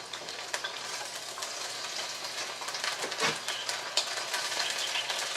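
Tofu slices sizzling in a frying pan, a steady dense crackle with scattered pops and a brief scrape near the middle, close and continuous.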